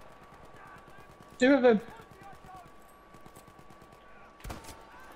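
Gunfire in Battlefield V, heard as a loud, brief burst of shots that stands out above quiet game ambience, followed by a fainter single crack a few seconds later, while players talk over it.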